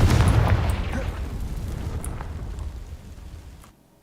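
A Confringo fire spell blasts dry vines in Hogwarts Legacy: a loud, close burst that booms at once, then rumbles and crackles as it fades over a few seconds before cutting off.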